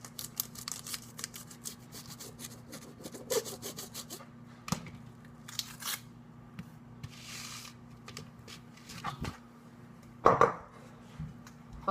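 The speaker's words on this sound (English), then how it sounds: "get a cutting board and cut the butter" A knife saws through butter on a cutting board, producing rapid scraping strokes that come in short bursts, then sparse taps and rubbing, then a louder knock near the end.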